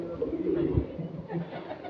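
Pigeons on a rooftop loft cooing softly in low, rolling bursts, fairly faint and close, with a little background murmur.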